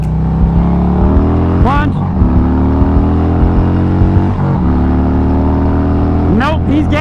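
A 2020 Indian Challenger and a 2017 Harley-Davidson Road Glide accelerate hard from first gear, their engines roaring loud and close with pitch climbing through repeated upshifts, while a rider talks over the noise.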